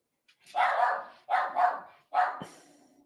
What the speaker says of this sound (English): there go the dogs losing their fucking mind again